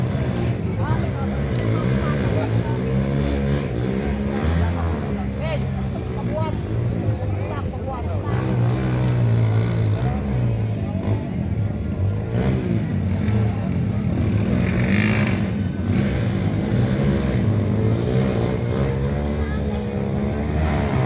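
Motorized tricycle engine roaring steadily throughout an off-road challenge in Barangay Dulon, a continuous loud low drone with people talking over it.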